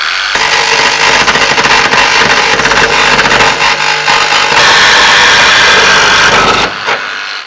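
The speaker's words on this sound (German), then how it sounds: "wir haben noch eine Stichsäge." A jigsaw cuts a hole through the sheet-metal body of a Sprinter van, giving one loud, continuous buzzing rasp close by that stops abruptly near the end.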